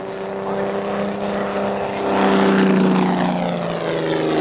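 Propeller aerobatic airplane diving out of a hammerhead turnaround, its engine drone steady and fairly loud, rising and swelling in pitch and volume midway as speed builds, with no voices.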